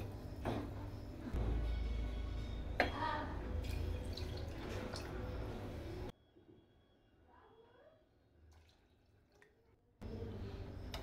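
Water pours and splashes into a pot of mutton for rice, about 2.5 glasses, for several seconds, stops briefly to near quiet, then starts pouring again.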